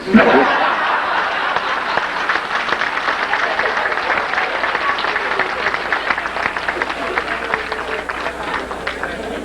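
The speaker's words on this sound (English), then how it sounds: "Let's give the Congressman another round of applause." Audience applause for a congressman at a speaking event, a steady dense wash of clapping sustained for about nine seconds with a few chuckles mixed in.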